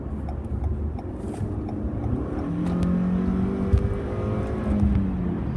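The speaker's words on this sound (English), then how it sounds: "You can hear the 4-cylinder whine and work." A 2018 Toyota Camry's 4-cylinder engine accelerates with a steady, rising drone and faint whine, heard from inside the car with no talking.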